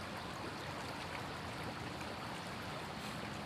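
A nearby stream flows steadily at an outdoor handpan session, a continuous soft, even rush of water close to the microphone with no voices.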